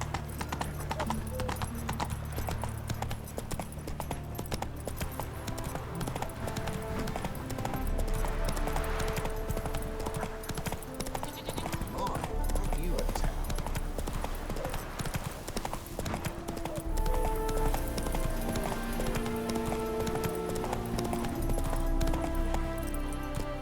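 Roach, a horse in the video game The Witcher 3, gallops with steady, rhythmic hoofbeats that continue throughout, over a soft layer of ambient game sound.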